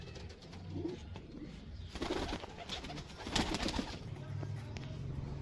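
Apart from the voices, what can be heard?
Border breed pigeons cooing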